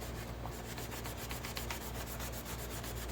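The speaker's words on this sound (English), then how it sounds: "I want to give some downward pressure, you know, like you're really scrubbing to try and remove something that's stuck on the surface" A sanding pad scrubs back and forth under firm downward pressure across a nickel silver metal surface, a faint, rapid, rhythmic rasping with no voices.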